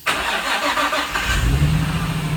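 A rebuilt Nissan 350Z engine cranks and fires up, a brief starter whir followed by a loud, close catch that settles into a steady rumbling idle.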